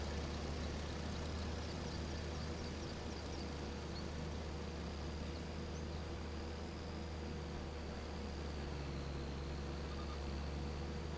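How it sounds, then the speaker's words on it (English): A propeller airplane passing in Farming Simulator 25 on the Judith Plains, Montana farm map: a steady, even engine drone with a faint whining tone, holding for about eleven seconds without speech. "I hear the plane."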